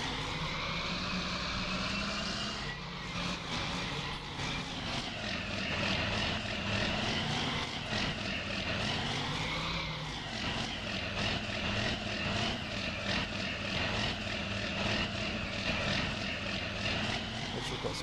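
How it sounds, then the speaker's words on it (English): A tractor engine drones steadily in Farming Simulator 19 as the tractor backs a trailer into place, a loud continuous motor hum with slight pitch shifts as it manoeuvres. "let's just back our tractor up to that point"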